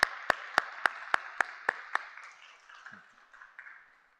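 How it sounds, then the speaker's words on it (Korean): A church congregation applauding during a Sunday service, beginning with a series of sharp, evenly spaced claps from one person near the microphone, then a softer, scattered round of clapping that fades out. "박수 보내주십시오"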